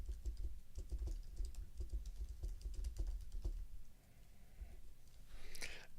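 Computer keyboard typing, a quick run of light key clicks close by, steady and fairly quiet, easing off briefly near the end before a few more taps.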